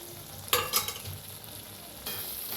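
Curd potato curry with coriander stirred in a pan, giving a steady soft sizzle broken by a burst of spoon scraping and clatter, then a louder hiss returning toward the end, with no voices.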